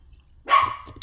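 A dog in a house lets out a single sharp bark at close range, a brief loud yelp that fades quickly, with a tiny click just after.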